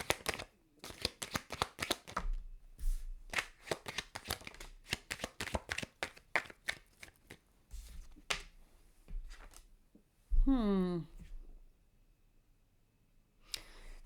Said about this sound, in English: every time I shuffled, it wasn't at the top or the bottom